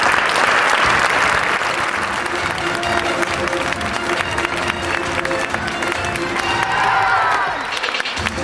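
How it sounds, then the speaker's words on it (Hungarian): Sustained applause from a seated audience fills the room at an awards dinner, loud and dense throughout, with scattered cheers and a faint voice rising near the end. "most jön el neki az igazi utolsó tapsa"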